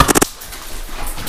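An airsoft 40mm grenade launcher fires during a game: a quick loud cluster of sharp pops at the very start, then quiet outdoor background.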